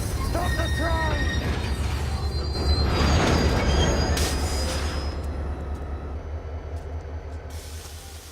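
A train is brought to a stop, with hissing brakes and squealing wheels over a deep, steady rumble of the cars, swelling midway and easing off toward the end.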